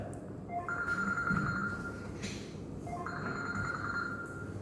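A telephone rings with a repeating electronic tone in two bursts, moderately loud over steady background noise, with no talking.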